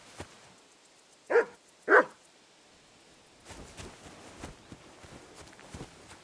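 Two sharp, separate dog barks from a dog in the video game Kingdom Come: Deliverance II, followed by soft footsteps and shuffling nearby.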